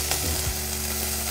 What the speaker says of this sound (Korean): 지글지글 소리가 나면, 그러면 이제 색이 좀 이렇게 예쁘게 났다는 얘기거든요